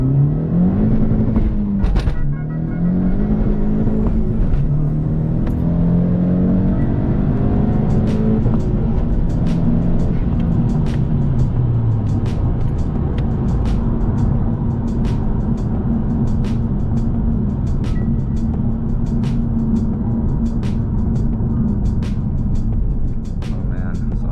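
Honda Civic Type R FK8 with a retrofit clutch on the 1.5T engine accelerating hard from first gear, the engine note climbing and dropping through quick shifts in a loud, continuous interior drone, with a voice talking over it.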